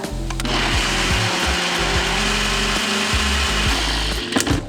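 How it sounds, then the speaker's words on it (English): A blender motor whirs steadily for several seconds blending cottage cheese pasta sauce, loud and close, its pitch shifting slightly as the contents churn. "Blend that up."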